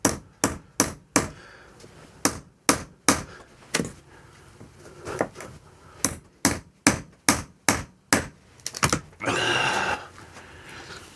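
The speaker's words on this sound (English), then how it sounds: "maybe tear a piece of board out to see what's behind it" Old board being torn and knocked out of a camper slide roof: a run of sharp, close, evenly spaced wooden thumps and cracks, ending in a brief rough scraping rip.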